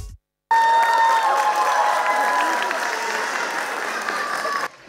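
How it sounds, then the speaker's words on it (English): An audience at a school annual day gives sustained applause with cheering after a pre-primary children's performance, a dense, even roar of clapping that begins abruptly and cuts off near the end. "Please give them a big round of applause"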